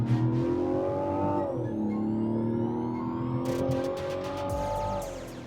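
A Mazda CX-90 SUV accelerating hard, its engine note climbing steadily through the gears with a brief shift dip, heard from inside the cabin and continuous for several seconds without talk.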